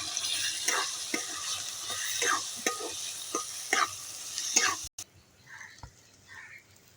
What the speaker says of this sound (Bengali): রসুন ভাজার সেই তেলেই কিন্তু আমরা এই বরবটি বাটাটাকে ছাপিয়ে নেব